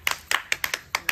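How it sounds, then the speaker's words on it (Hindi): A few hands clap close by at a village wedding ceremony, around ten sharp, quick claps in an uneven, lively rhythm over a short moment. "जी ताली बजाओ"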